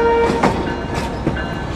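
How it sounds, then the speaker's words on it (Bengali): Simanta Express intercity train backing slowly into platform 2 at Khulna railway station, with a continuous rail rumble, several sharp wheel clanks and a brief tonal squeal near the start. "রিভার্সভাবে খুলনা রেলওয়ে স্টেশনে 2 নম্বর প্ল্যাটফর্মে প্রবেশ করছে আমাদের আজকের সফর সঙ্গী আন্তনগর আপ সীমান্ত এক্সপ্রেস।"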